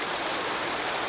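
Cartoon rain falls in a dense, even hiss that stays steady and fairly soft for about a second, with no voices over it.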